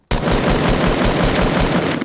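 Rapid automatic gunfire in the Fortnite battle royale video game: a loud, unbroken stream of evenly spaced shots starting abruptly and continuing for about two seconds.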